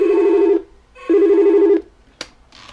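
An old telephone on a home intercom extension rings close and loud, two long electronic trill bursts separated by a pause, followed by a short click and faint noise.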